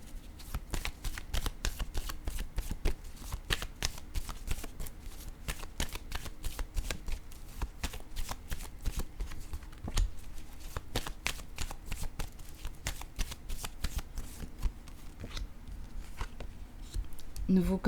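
Tarot cards being shuffled continuously at close range, a steady rapid riffling and flicking that runs without pause.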